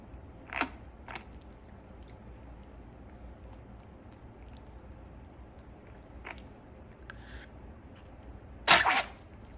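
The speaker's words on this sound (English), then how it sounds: "I told you he wants to sneeze." A pet sneezes during bath time in a quiet room, with one sharp sneeze near the start and a louder, closer one near the end, separated by faint rustling and splashing.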